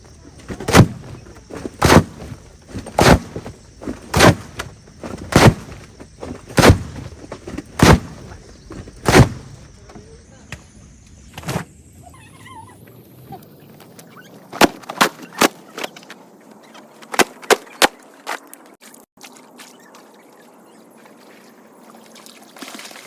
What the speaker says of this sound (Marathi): माझी गोदाडे आपटायला एंट्री झालेली आहे